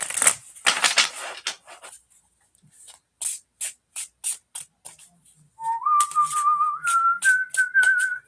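A deck of cards is shuffled in a series of short, crisp riffling bursts with small pauses between them. Near the end, a clear tonal whistle rises step by step over the card sounds.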